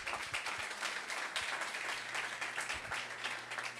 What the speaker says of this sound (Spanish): Vamos a darle un fuerte aplauso a Pedro.